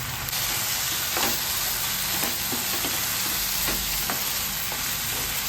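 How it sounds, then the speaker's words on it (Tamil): Oyster mushrooms are stirred into a frying masala for a mushroom thokku, giving a constant loud sizzling hiss, with occasional scraping stir strokes in the pan, close up. "நம்ம இந்த ஸ்டேஜில் சிப்பி காளான் சேர்த்துடலாம். நல்லா கிளறி வேகட்டும்."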